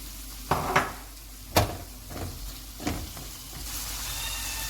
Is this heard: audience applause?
no